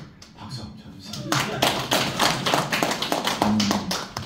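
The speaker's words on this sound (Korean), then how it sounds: "박수 한번 쳐주세요." A lecture audience breaks into clapping after a brief quiet stretch. The claps build quickly into steady, moderately close applause that continues to the end, with some faint talk mixed in.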